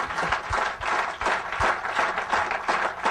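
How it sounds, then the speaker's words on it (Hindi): Crowd applause at a business meeting in Mathura, dense steady clapping with a few distinct louder claps, close and continuous. "तो उनके लिए एक जोरदार तालियां हो जाएं।"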